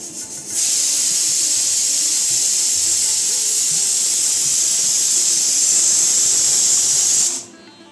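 A pressure cooker boiling lentils vents loud, continuous steam hiss for about seven seconds, steady and close, then cuts off abruptly.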